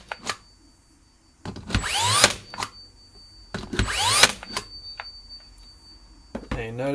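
Bosch 16-gauge cordless flywheel brad nailer firing twice, each shot a rising whooping whir that snaps into a sharp bang and leaves a brief metallic ring, with quieter clicks and handling noise between.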